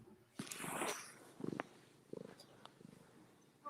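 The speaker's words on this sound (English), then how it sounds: "I hear a kitty cat purring." A cat purring faintly with soft rhythmic rumbling bursts, close but quiet, with a brief rustle near the start and no talking.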